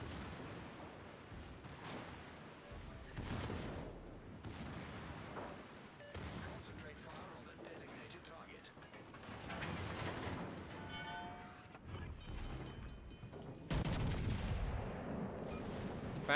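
Naval gunfire in World of Warships Legends during a ranked tier 5 one-versus-one battle: repeated heavy booming salvos over a constant engine and sea drone, with a louder blast near the end and a voice talking over parts.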